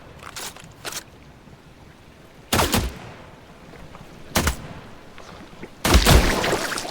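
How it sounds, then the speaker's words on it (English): Pistol fire at a creature in the water in the survival game The Last Caretaker: several loud, sharp shots spaced a couple of seconds apart, the last one followed by a longer, rumbling burst, over a low ambient background. "Let's see if I can hit him with that pistol"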